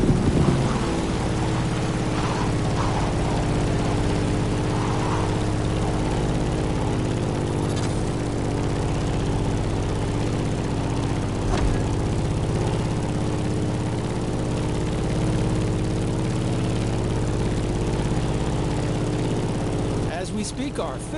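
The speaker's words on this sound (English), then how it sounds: "In the cockpit of a stunning Grumman F-8F Bearcat, or simply the Bear." A Grumman F8F Bearcat propeller plane in the video game The Crew Motorfest drones steadily in flight, its deep engine hum holding an even pitch with slight swells, and a voice speaks over it.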